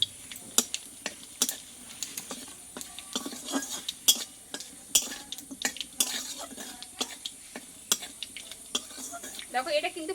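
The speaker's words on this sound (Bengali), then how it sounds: "আমি দিয়ে দেব এটা ভালোভাবে একটু আমি ভেজে নেবো" Black cumin seeds, a cinnamon stick and four cardamom pods fry in a pan, giving a faint crackle punctuated by sharp, regular ticks and spoon taps, with a soft voice in the background.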